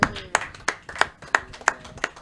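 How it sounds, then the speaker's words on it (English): A few people clap for a musician guest on a hip-hop show, sparse sharp claps in a loose, regular rhythm, close and fairly loud with no voices over them. "y'all give him a round of applause."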